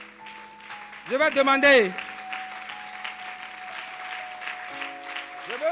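Brief burst of applause and cheering from a worship service congregation, rising loudly for under a second before fading into a steady murmur under an ongoing voice and sustained organ-like tones.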